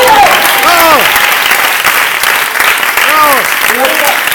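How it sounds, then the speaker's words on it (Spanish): An audience at an improv comedy show claps for a performer named Felipe, with sustained applause close by and loud voices calling out and cheering over it. "¡Un aplauso, Felipe!"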